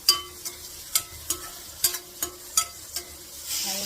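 Onions cook in a pan in a home kitchen, heard as a quiet background sizzle under a regular series of sharp spatula taps and scrapes, about nine strokes in a few seconds, then a brief rise in hiss at the end.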